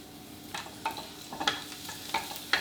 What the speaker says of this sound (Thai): ก็กระเทียมครับ นำลงไปเจียวให้หอมก่อนเลยนะครับ